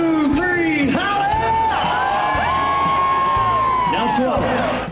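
A bar crowd at a Nashville honky-tonk lounge hollers together in one loud, sustained group shout with whoops and cheering, with layered voices and babble throughout.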